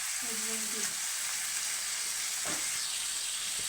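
Chicken curry cooking in a pan as tomato and onion paste goes in, a steady hissing sizzle with a couple of brief stirring scrapes, moderately loud, no one speaking.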